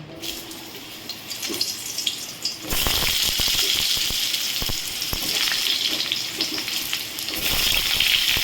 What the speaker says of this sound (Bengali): আমার তেলটা গরম হয়েছে, পেঁপেটাকে ভেজে আমি তুলে নেব